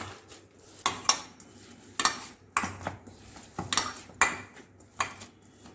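Chhena being kneaded by hand with semolina and sugar in a bowl, giving repeated soft squelching presses and clinks against the bowl in a steady rhythm of about one stroke per second, close and fairly quiet with no talk.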